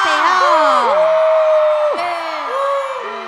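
A packed Indonesian television awards audience cheers, whoops and screams loudly and continuously, with a sustained roar of many voices swelling and dipping; an announcer's voice carries over the crowd throughout.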